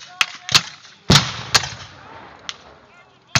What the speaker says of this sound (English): now they'll begin firing at will as each man loads